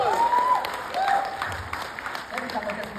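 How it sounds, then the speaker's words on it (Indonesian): An audience at a Quantum Property motivational event breaks into brief applause, a short wash of clapping blended with voices and crowd noise. "Tepuk tangan untuk kita semua."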